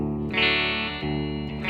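A short electric guitar lick from a song rings out with chorus-like distortion in a few clean, sustained strums. The playing is close and steady, and no one speaks.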